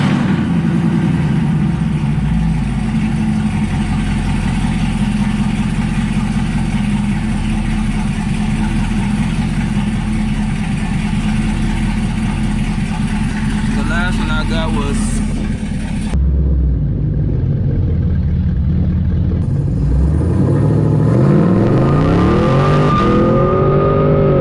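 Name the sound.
Camaro SS accelerating from 0 to 60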